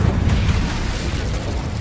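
An Incendio fire spell is cast in the video game Hogwarts Legacy on PS5, giving a dense, rumbling burst of flame with a low boom that stays loud throughout the short moment, without talk.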